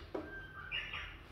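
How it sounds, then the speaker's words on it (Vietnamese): A plastic Casio wall clock sounds its hourly birdsong chime, one short synthetic bird call with a rising whistle and a trill, fairly close and clear over faint room noise. "Tiếng chim hót thôi, đến giờ là chim hót."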